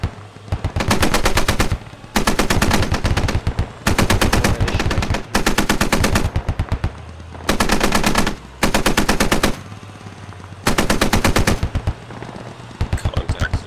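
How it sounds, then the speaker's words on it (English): Heavy machine gun fire in the video game Squad, long loud sustained bursts of rapid shots separated by short pauses, close and dominant, with no talk. "And HMG fire from White Beach."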